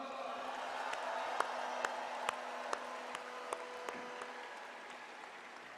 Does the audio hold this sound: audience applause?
yes